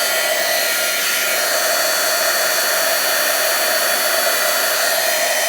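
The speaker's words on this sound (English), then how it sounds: "let me get this heated up, and we're going to start to emboss" A heat gun blows steadily while heating embossing powder, a loud continuous hissing roar of hot air that holds unchanged for several seconds, close and alone.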